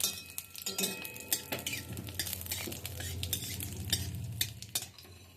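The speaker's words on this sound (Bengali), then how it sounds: "এক চামচের মতো সর্ষের তেল দিলাম দুটো শুকনো লঙ্কা আর একটু গোটা জিরে এগুলোকে ভেজে নিচ্ছি" Dried red chillies and whole cumin seeds frying in about a spoonful of mustard oil for potato momo filling, a steady close sizzle broken by repeated sharp clinks and scrapes of a spoon against the pan.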